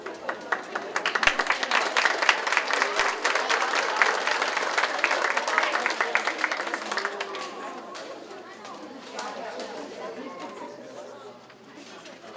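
Audience applause at a St. Matthews School DARE graduation: steady clapping from a crowd, loud and sustained for about seven seconds before easing into softer scattered claps, with murmured chatter underneath.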